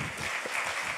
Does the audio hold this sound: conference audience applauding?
yes